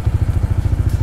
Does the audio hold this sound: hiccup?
no